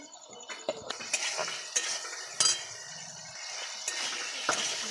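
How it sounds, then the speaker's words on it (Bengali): Egg chilli being stirred in a pan with utensil scrapes and clinks of cutlery against cookware, intermittent and close, with a faint liquid bubbling underneath and no talking. "এরপর ভালো করে আমি নেড়ে নিচ্ছি"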